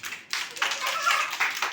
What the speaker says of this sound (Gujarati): તાળી પાડો બધાય.